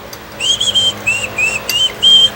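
A person whistles a short, wavering tune close by in a series of bright, clear notes, with faint working noise underneath.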